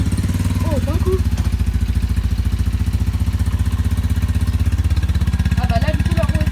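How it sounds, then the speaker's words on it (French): Motorcycle engine running steadily at a fast, even idle with a dense low pulsing throb, fairly close and loud, while brief chirpy voice bits break in near the start and end. "Je crois qu'il faut que je démarre la moto."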